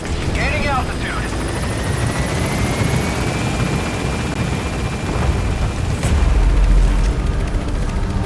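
A helicopter lifts off in a Metal Gear Solid V game scene, a steady loud rotor and engine roar holding throughout with a deeper rumble swelling near the end, while a voice briefly speaks early on.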